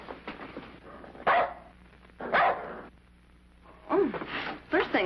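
A dog barks in short bursts, several loud yaps close by with gaps between, over faint background hum in an old western TV scene.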